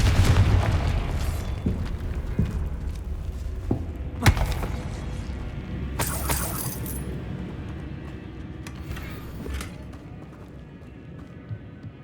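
Spell explosions burst in the video game Hogwarts Legacy, as sharp booms crack out over a rumbling bed, followed by scattered debris clatter and a fading, crackling tail.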